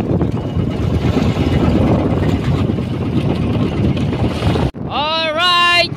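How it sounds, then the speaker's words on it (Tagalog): Strong wind roars across a fishing boat at sea, a loud buffeting rush against the microphone that covers most of the clip before cutting briefly, followed by a high whistling tone near the end. "Lakas pa rin yung hangin."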